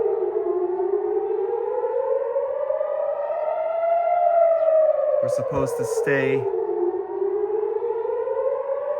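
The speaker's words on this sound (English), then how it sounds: "where there's a siren and there's another explosion overhead." A civil defense siren in Israel wails in long rising and falling sweeps throughout during a missile attack, with a person speaking briefly over it near the middle.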